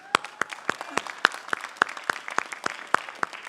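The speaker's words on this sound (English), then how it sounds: "Please join me in a round of applause for our honorees." Applause for honorees at the 2019 Merrimack College commencement, heard as sharp claps in a steady, evenly spaced run that stays moderately loud with no voices over it.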